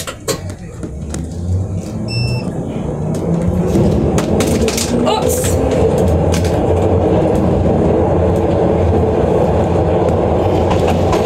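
A Glasgow subway train on its farewell run before scrapping rumbles loudly along the track, building to a steady roar with clattering wheels, while people talk nearby.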